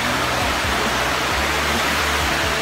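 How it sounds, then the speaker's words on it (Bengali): Dhuppani waterfall in rainy weather, pouring in a dense, continuous broadband roar that fills the whole stretch without pause, loud and close with no voices. "ঝর্ণার ধারা কিন্তু শুরু হয়ে গেছে অলরেডি।"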